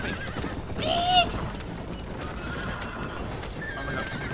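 Horses in the video game Red Dead Redemption: a sharp, fairly loud whinny rises about a second in, with hoofbeats and game ambience continuing underneath.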